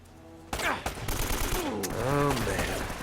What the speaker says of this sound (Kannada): ಸ್ಟೈಲಾಗಿ ಫೈರ್ ಮಾಡ್ತಾ ಇದ್ದಾನೆ.